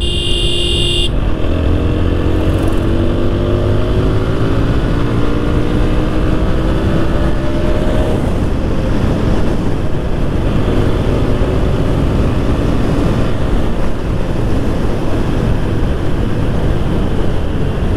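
A TVS Apache RTR 160 motorcycle rides along after servicing, its engine droning steadily with strong wind rush throughout and a loose number plate rattling, the sound continuous and close for the whole stretch.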